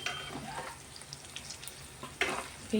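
Soft, steady sizzling of brinjal pieces frying in oil, with a couple of louder stirring scrapes toward the end.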